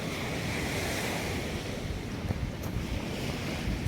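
Sea waves break along the Konkan coast in a steady, loud roar of surf, with wind buffeting the microphone throughout and no voices.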